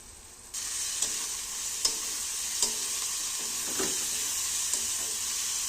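Onions with spices fry in a pan for a home-made tarka, giving a steady bright sizzle with a few sharp stirring scrapes at intervals.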